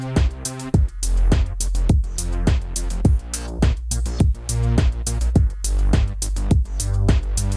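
Bass locks in with a punchy kick and drum pattern in a produced song, giving a bouncing groove of regular, sharp hits over sustained synth tones. Loud, steady and without voices.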